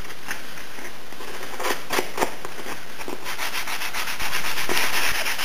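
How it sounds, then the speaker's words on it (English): A WASR-10 rifle stock, a Romanian AK-47 variant, is sanded by hand for refinishing. Close, steady abrasive rubbing strokes repeat in a fairly even rhythm, with brief louder scrapes and no talking. "so you can see how the sanding works"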